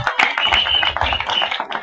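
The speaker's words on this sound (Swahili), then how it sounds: "Chapia Bwana Yesu makofi mazuri" A church congregation at a funeral service claps along in quick, uneven bursts of hand claps, loud and close, with a murmur of voices underneath.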